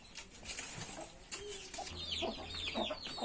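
Chickens cluck and squawk close by in a coop in a steady, busy chatter, with a few sharper calls toward the end.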